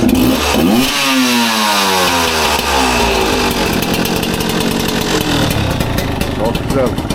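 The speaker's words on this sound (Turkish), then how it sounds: "Şu motoru bir çalıştır bakalım bir de seninkinin sesini duyalım. Çalıştıralım. Ver bakalım bir gaz." A Hero XP motorcycle engine starts and revs up, with loud rising and falling engine tones close by and some voices talking over it.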